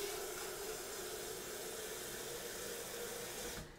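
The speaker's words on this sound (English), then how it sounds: "gotta add water to this." Steady, broadband hiss of water running from a tap into a bowl of food for about three and a half seconds, then cutting off abruptly, fairly faint and with no talking.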